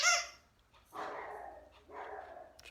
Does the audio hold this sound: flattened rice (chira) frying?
no